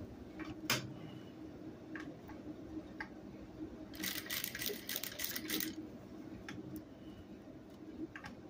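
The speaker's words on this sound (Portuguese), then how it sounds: "Aqui na máquina, uma dica para vocês é ir devagar, ir parando, ajustando para não dar prega" A sewing machine runs slowly in short bursts while stitching fabric, with a faint mechanical whir broken by scattered ticks and clicks, close and quiet, then a brief faster run of stitches midway.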